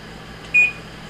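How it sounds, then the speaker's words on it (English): A kitchen timer gives a single short electronic beep, clear but brief, over a quiet room hum in a kitchen. "Set my timer here."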